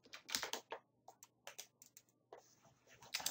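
Keyboard keys clicked in quick irregular bursts while a password is entered during a catacomb puzzle quest in a game, crisp and close with short pauses between strokes and no talk.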